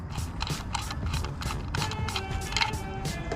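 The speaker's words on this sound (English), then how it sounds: "It takes a T27 Torx bit. I'm gonna unscrew that right now." A T27 Torx bit unscrewing a license plate light screw on a 2021 Ram 2500: a close, rapid ratcheting clatter of repeated clicks, steady and fairly loud, with no talking.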